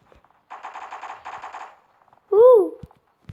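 Gunfire in the mobile shooter Bloc Strike comes as two quick automatic bursts of rapid rattling shots, followed by a brief tonal game sound effect and a few faint clicks, with no speech over it.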